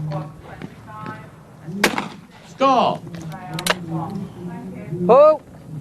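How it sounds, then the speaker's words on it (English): Shotguns firing at clay targets during a competitive shoot, several sharp, loud reports spaced a second or so apart under a commentator's ongoing talk. "See, all these guys are shooting very nicely."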